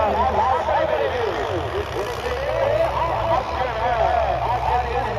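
A tractor engine rumbles low and steady at a village trolley-pulling competition, partly buried under loud nearby voices talking throughout.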